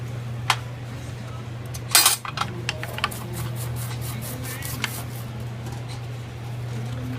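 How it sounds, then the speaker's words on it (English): Manual slicer cutting lettuce into a 4-inch pan in a kitchen: sharp metallic clacks and crisp cutting snaps at irregular intervals, with one louder clatter, over a steady electrical hum. "Small sampling of what the manual slicer will do."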